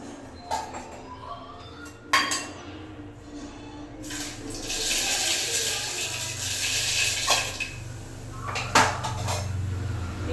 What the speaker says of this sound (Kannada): ಜೀರಿಗೆ ಹಾಕಿದ್ರೆ ಅದು ಚಟಪಟ ಅಂತ ಸಿಗಬೇಕು